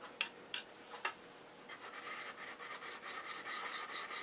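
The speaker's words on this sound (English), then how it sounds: "I'm going to take a moment to sharpen my skew." A woodturner's skew chisel being honed on a diamond hone in small circular strokes, heard as a few sharp scrapes followed by a continuous close, faint grinding rasp.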